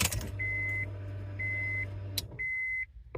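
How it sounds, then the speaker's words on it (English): Acura RSX (2002–04) with the ignition key turned: a low steady hum from the fuel pump priming under three repeated electronic chime beeps, then a single sharp relay click as the hum stops. "See, heard the relay click,"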